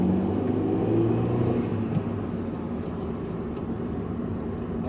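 Steady, muffled engine and road drone from inside a 2015 Hyundai Elantra GT while driving, a continuous low hum with no voices and little variation.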